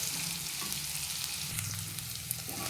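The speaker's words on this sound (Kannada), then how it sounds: "ಹಸಿ ವಾಸನೆ ಹೋಗೋ ತನಕ ಫ್ರೈ ಮಾಡಿಕೊಂಡ್ರೆ ಆಯಿತು" Homemade ginger garlic paste fries in a pan with a dense, continuous close sizzle and faint stirring, heard alone without any voices.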